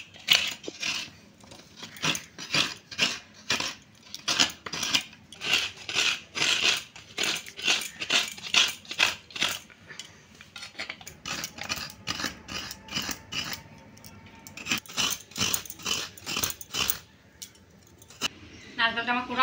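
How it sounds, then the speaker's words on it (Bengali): A coconut is scraped on a grater in rhythmic bursts of rasping strokes, repeated quickly in close, moderately loud clusters with short pauses between them. "আমি ওইদিকে চাল কুমড়ো সেদ্ধ বসিয়ে দিয়ে আমি নারকেলটা কুড়ে নিচ্ছি"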